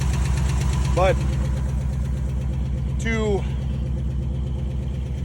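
A car engine idles steadily on full choke with a slight shake and a persistent misfire, its low rhythmic throb continuous throughout while someone speaks briefly over it.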